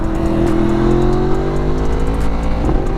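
Yamaha R1M motorcycle with a crossplane engine running steadily at speed on a freeway, a loud close engine drone whose pitch slowly climbs and falls, mixed with rushing wind, with no talk.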